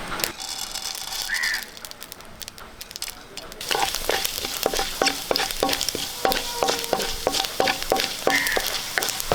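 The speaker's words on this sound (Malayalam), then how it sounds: "കുറച്ച് വെളിച്ചെണ്ണ ഒഴിച്ചു കൊടുക്കാം അര ടീസ്പൂണ് കടുക് ഇട്ട് കൊടുക്കാം ഒരു സ്പൂണ് ഉഴുന്ന്" Mustard seeds and urad dal fry in hot coconut oil, a dense steady sizzle with sharp crackling pops that thickens after a few seconds and keeps spattering.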